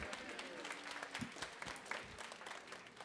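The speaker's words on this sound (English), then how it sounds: "A round of applause for Mr. Geiger" Audience clapping at a middle school winter band concert, a faint, distant patter of hands heard from afar with a few sharper claps standing out.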